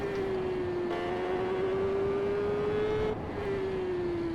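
A superbike engine in the racing video game TT Isle of Man 3 holds a steady, high whine that shifts pitch slightly with brief gear changes. It plays alone at moderate volume over faint background noise.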